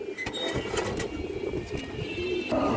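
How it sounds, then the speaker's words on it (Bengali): A large male pigeon coos in low, soft, repeated throbs close by, steady against a faint background hum. "এই দেখেন অনেক সুন্দর একটা নর কবুতর দর্শক"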